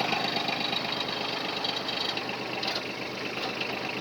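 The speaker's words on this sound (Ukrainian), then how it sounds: "Перша передача, бачите, повільна, це 500 обертів орієнтовно." A Yanmar F155 Japanese mini tractor with a 120 cm rotary tiller runs with its PTO engaged in first gear at about 500 rpm. The diesel chugs steadily and rhythmically, close and continuous, with no talking.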